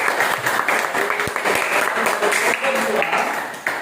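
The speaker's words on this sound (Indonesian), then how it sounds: "Ya, kita berikan aplaus" Classroom applause for a student group that has just presented its work, many hands clapping in a dense, steady burst that carries on through the whole stretch, with some voices mixed into the crowd noise.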